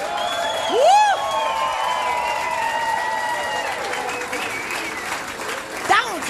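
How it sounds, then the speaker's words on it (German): A carnival crowd in a brewery hall applauds steadily after a singer's song, the clapping dense and sustained, with a whistle-like tone and a few whoops above it. "Vielen herzlichen Dank für den schönen Applaus"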